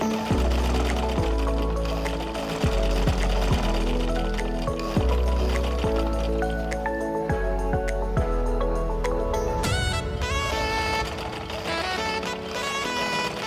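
A sewing machine stitches the neckline facing of a simple tunic, its motor humming in steady runs with rhythmic needle clatter that starts and stops several times, close and loud, ending in a faster rattling stretch.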